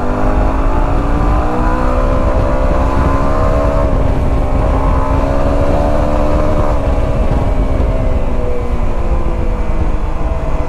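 A motorcycle engine drones loudly and steadily while accelerating on the road, its tone rising and dipping with throttle changes over heavy wind and road rumble, with no talking.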